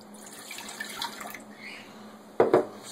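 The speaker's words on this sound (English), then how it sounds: "we're going to add 1 cup of water." A cup of water goes into a pot for pine needle tea: faint trickling at first, then a brief, louder splash near the end.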